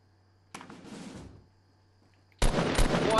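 Shotgun blasts ring out in the Fortnite video game: a rough burst of fire near the start, a lull, then a louder, sharper volley close by to the end, with no voices.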